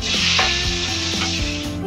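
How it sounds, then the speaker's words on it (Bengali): Marinated prawns fry in hot mustard oil with a loud, steady sizzle that lasts throughout, and a few soft clicks and stirring knocks sound over it. "এবার আমি চিংড়ি মাছগুলো তেলের উপরে ছেড়ে দেব।"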